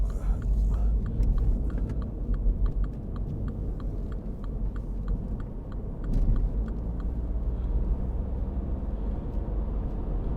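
A 2015 MINI Hatch 1.5 Cooper D automatic drives on the road, with a steady engine and tyre rumble inside the cabin and a regular ticking, likely an indicator, while a person talks.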